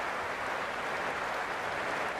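Stadium crowd roaring in the cricket video game Cricket 26 during an India versus Pakistan T20 match, a steady dense wash of cheering and clapping with no clear peaks, fairly soft and continuous throughout.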